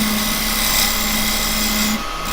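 A square carbide tool cuts a shallow channel into a wooden skull bowl spinning on a lathe, giving a steady, loud rasping scrape with a constant motor hum that stops near the end.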